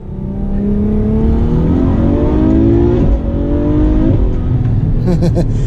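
A Ferrari F12 V12 driven hard in race mode, its engine revving up through rising gears with shift breaks, loud and close throughout, easing off near the end.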